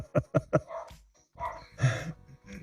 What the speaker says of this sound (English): Now I got the dogs barking as well.